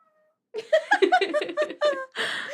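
A pet cat meows loudly and expressively indoors after walking into the room, several drawn-out, chattering calls in quick succession close to the microphone.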